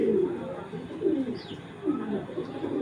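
A female racing pigeon coos in low, soft rolling phrases, three or four rising and falling coos, close by over a quiet background with a faint higher chirp.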